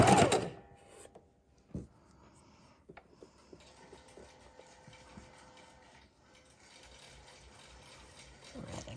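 A sewing machine stitches quilt snippet strips made from block trimmings, a soft mechanical whir with quick clicking bursts, quiet and close, starting and stopping, with brief handling noises in between.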